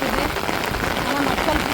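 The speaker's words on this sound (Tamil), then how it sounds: "பேஞ்ச மழை விடாமல் பேஞ்சிக்கிட்டு இருக்குதுங்க" Heavy, persistent rain pours down outside a flooded house, making a steady dense patter on surfaces, with a voice speaking faintly underneath.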